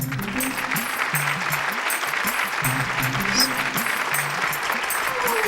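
Applause from a studio audience during a comedic Bhojpuri web series skit, a steady dense patter of clapping running the whole stretch with faint voices and music-like tones underneath.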